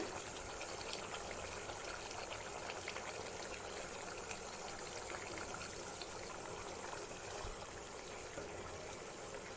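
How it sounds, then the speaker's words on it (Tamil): A pot of Chettinad egg curry bubbles at a steady boil, giving a continuous, even hiss of simmering liquid close by with no voices. "நம்ம குழம்பு நல்லா கொதிச்சு வந்துட்டுருக்கு"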